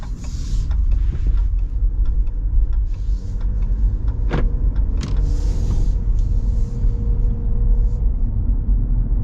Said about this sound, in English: And you do get some tire noise.